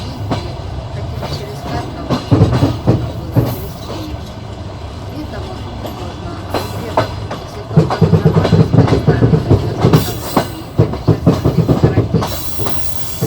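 Steel train wheels clatter over rail joints in rhythmic clickety-clack bursts, heard from inside a passenger train window on the Shevchenkove–Yuzhne to Kharkiv-Passenger section, with a steady rumbling carriage hum underneath that swells louder in the second half.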